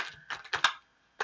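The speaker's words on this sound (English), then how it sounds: "these cards are still a little bit hard to shuffle the way I want to shuffle them." Stiff, brand-new tarot cards being shuffled during a reading, giving several short crisp riffling bursts with a pause before a final burst, close and fairly quiet.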